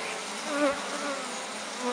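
Honeybees buzz close by around an open queenless hive, a continuous dense drone with one louder bee passing near, no talk.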